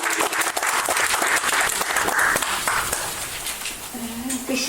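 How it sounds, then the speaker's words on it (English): An audience at a community event gives a round of applause, a loud, busy clatter of many hands with some crowd noise mixed in, tapering slightly toward the end. "Can we have a round of applause for Sue?"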